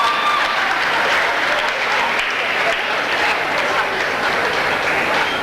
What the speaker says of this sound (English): You could clap for that for sure.